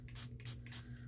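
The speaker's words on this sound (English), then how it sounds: "And then I have this little spray bottle." Several quick hissing spritzes from a small spray bottle, close and fairly quiet, in a short rhythmic burst.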